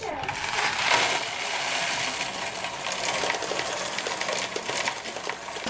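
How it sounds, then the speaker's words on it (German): Coins pouring and clattering into a coin counting machine at a bank on World Savings Day, a dense continuous metallic jingle and rattle with mechanical whirring that lasts throughout, close and steady. "Wie funktioniert denn jetzt genau die Münzzählmaschine?"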